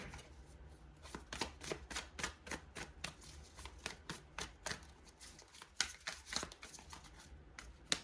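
Tarot cards are shuffled over and over, crisp riffling bursts repeating in a quick, uneven rhythm, close and quiet.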